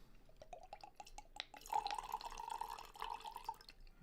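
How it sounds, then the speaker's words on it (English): Syrah-Garnacha red wine is poured into a glass: a few light drips, then a short, gentle trickling stream, faint and close, with no talking. "I do have to pour a little bit more wine."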